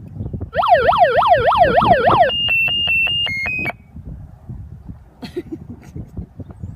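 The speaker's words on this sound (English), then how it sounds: "Now I have the siren on" A home self-defense alarm blares loudly and close, first as a rapidly warbling siren, then switching to steady repeated high beeping tones before cutting off into quiet room noise.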